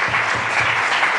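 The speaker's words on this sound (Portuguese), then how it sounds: "aplauda Jesus Cristo" Loud, close applause from a church congregation, a thick continuous wash of many hands clapping with no voices rising above it.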